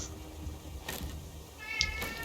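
A cat meows in the survival video game Raft, two or three short meows standing out over a low steady background hum, close and fairly clear.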